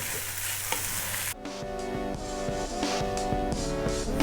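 Vegetable fried rice with chili and cilantro being stirred in a hot pan: a steady sizzle with repeated scraping and clinking strokes of the utensil, close and fairly loud, no talking.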